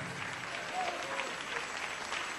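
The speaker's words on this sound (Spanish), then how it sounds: "Dale ese aplauso al Señor." A church congregation applauding during a Spanish-language evangelical service, a continuous, fairly distant wash of clapping with some voices blended in.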